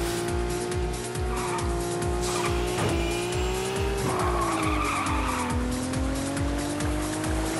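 Race car engine in the Little Racers STREET video game, a loud constant rev with pitch shifts between gear changes and a drawn-out tire squeal as the car skids through turns.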